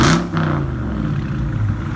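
A 2017 Dodge Challenger Hemi with a Flowmaster Outlaw exhaust revs with a deep, throaty exhaust rumble, loud and close, after a brief sharp burst at the start.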